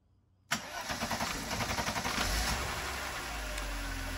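A Mercedes W124 engine cranks rapidly and repeatedly without catching, a fast rhythmic churning that starts abruptly and settles into an uneven rumble. Heard close and fairly quiet, with no talking.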